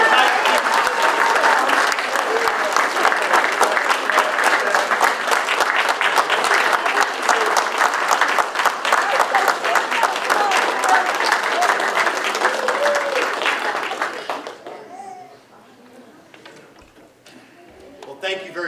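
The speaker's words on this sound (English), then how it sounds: "Let's give it a round of applause" Loud, sustained applause from a large audience with some cheering mixed in, fading out near the end into quieter room noise.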